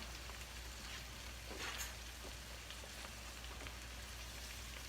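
Pork cutlets frying in a crowded skillet of hot grease, a soft, steady crackling sizzle heard fairly faintly and close, with no talking.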